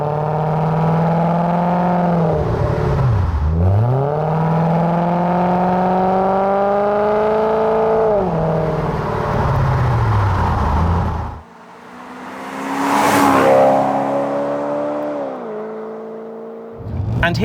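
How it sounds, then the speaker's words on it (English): A 1990s Aston Martin V8 with a sports exhaust revs hard and accelerates close by, its loud rising engine note falling away between gear changes before a brief lift-off and a second, quieter surge. "this one comes complete with a sports exhaust, meaning when you press the loud pedal,"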